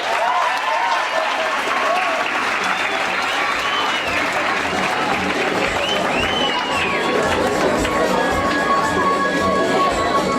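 School audience applauding and cheering for the principal, a loud sustained roar of many clapping hands with crowd voices and shouts throughout.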